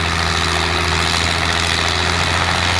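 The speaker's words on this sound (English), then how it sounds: "It is a David Brown engine, but not the original one." A David Brown straight-six engine, not the original unit and running without a turbo, idles steadily at a steam rally, giving a loud, continuous low rumble with a constant even throb and no voices.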